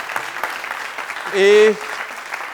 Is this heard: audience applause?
yes